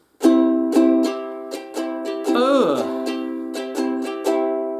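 A cheap ukulele chord strummed repeatedly, about ten strums with ringing sustain, close and clear; the chord sounds sour and out of tune. A brief voice-like sweep interrupts midway.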